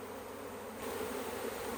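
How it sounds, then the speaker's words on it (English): Dense swarm of honeybees being gathered from a bush, buzzing steadily and close, growing a little louder partway through, with no voices. "Look at all those bees."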